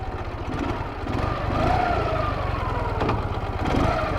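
A 1995 Ural Tourist motorcycle with a nicely tuned engine being ridden around a building: a steady, loud, close low-pitched engine throb that rises slightly as it pulls away, with no talking.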